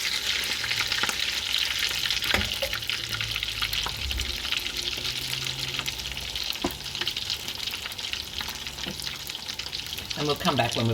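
Breadcrumb-coated salmon patties frying in a pan, a continuous oily sizzle with occasional sharp crackles and a brief clatter near the end.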